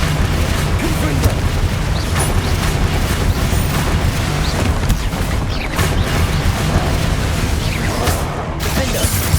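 In Hogwarts Legacy, a fire blast spell goes off amid dense, continuous battle noise in a combat arena, with booming impacts and crashes layered over loud rumbling throughout.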